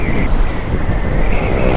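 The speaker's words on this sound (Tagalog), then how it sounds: "Lakas ng hangin." Strong wind roars and buffets the microphone during a motorcycle ride on an open road through Bongabon in stormy weather, a loud, continuous rushing rumble with no talk.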